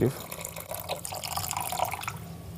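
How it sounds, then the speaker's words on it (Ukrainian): About 80 ml of water poured into roughly 340 grams of sugar in a separate bowl while making marshmallows, a soft trickling pour with light splashes, faint and close, under a voice. "Далі наливаю води 80 мл."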